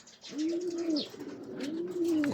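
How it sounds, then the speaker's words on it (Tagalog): Stock pigeons in a loft give three low, drawn-out coos in a row, close by, with faint rustling and chirps in between. "Ito yung mga stock bird."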